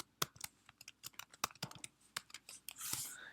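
Typing a login on a computer keyboard, with quick irregular key clicks close and quiet, followed by a brief soft rustle at the end.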